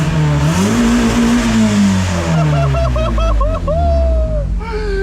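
High-compression 1.8-litre engine in an NB Mazda Miata revs up hard and climbs to the rev limiter, bouncing off it in a stuttering burst, loud and close, with a voice speaking briefly alongside.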